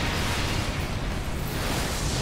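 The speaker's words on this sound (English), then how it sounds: "The wind of the explosion saved them." An explosion in the video game Sonic '06 roars as a steady, dense rumble with rushing wind, sustained and loud for the full stretch, with no distinct bursts and no talking.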